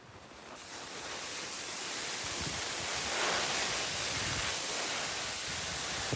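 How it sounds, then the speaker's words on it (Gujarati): Heavy rain has swollen Ganesh waterfall at Mankadband, and it gives a loud, continuous roaring rush of water. The broadband roar holds steady throughout and builds slightly, with no voices over it. "હવે હું તમને ગણેશ વોટરફોલ બતાવવાને કે જેવો કેટલો ખતરનાક લાગે છે તમને"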